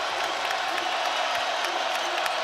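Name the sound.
basketball arena crowd cheering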